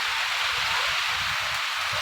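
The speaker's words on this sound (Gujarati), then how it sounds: "જોઈ લ્યો જોરદારનો વરસાદ ચાલુ છે અત્યારે" Heavy rain falls at night as a dense, steady wash of noise, constant and fairly loud with no voices over it.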